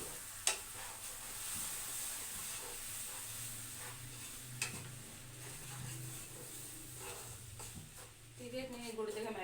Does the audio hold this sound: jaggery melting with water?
yes